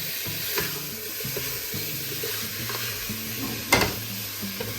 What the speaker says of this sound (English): Just stirring it for 5 minutes, making sure everything gets cooked.